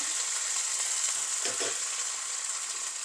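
Onion, dried chili and curry leaves fry in oil with a steady broadband sizzle, joined midway by a brief stir or scrape, close and continuous with no talk.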